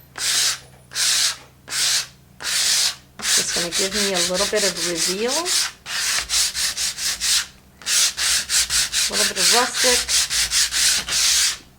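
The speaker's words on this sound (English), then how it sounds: "I'm going to sand through that." Rhythmic scratchy strokes of rough sandpaper on wood, loud and close, in bursts with short pauses, while someone talks over part of it.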